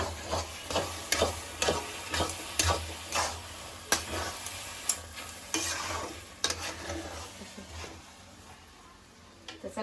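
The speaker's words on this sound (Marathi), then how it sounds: "आता मस्त हलवून हलवून घ्यायचं छानपैकी" Puran, a cooked lentil filling with jaggery and cardamom, being stirred in a pan, with repeated soft scraping and thick squelching strokes in an uneven rhythm over a faint low sizzle, easing off toward the end.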